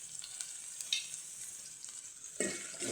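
Sliced onions sizzling in hot oil as they are stirred: a quiet, steady hiss with scattered spatula scrapes, then a louder burst of sizzle near the end.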